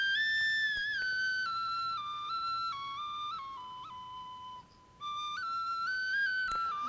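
A Crimean Tatar clay toy whistle shaped like a dragon plays a steady, breathy tone that steps up and down in pitch, with one brief break near the end, close and continuous.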